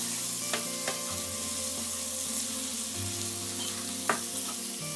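Chicken curry with chili powder is stirred in a sizzling pan: a steady fry hiss, a low hum and a few sharp spoon taps against the metal, with no voices.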